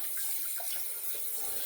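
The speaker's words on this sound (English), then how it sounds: "We'll rinse both sides really well." Tap water runs steadily over a shavette razor being rinsed under the faucet, a continuous close splashing hiss with no speech.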